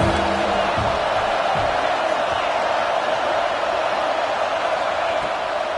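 A dense, steady roar of a home crowd fills a college football video game, Texas Tech playing at Alabama, loud and continuous with scattered whoops mixed in.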